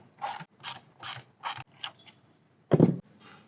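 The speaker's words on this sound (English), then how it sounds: "I've got a little 1/4" T27 Torx bit. I'm gonna pull these guys out, remove this bracket." Ratchet fitted with a 1/4-inch T27 Torx bit loosening bumper fasteners on a 2021+ Ford Bronco: four quick, close ratcheting bursts in a steady rhythm, then fainter clicks and one louder final clack as a fastener comes free.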